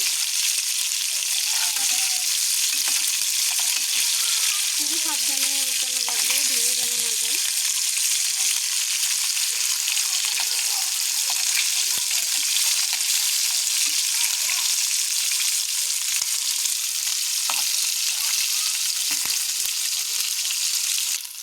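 Pangas fish pieces fry crisp in hot oil in a pan, with a loud, continuous close sizzle throughout and someone talking briefly over it near the start.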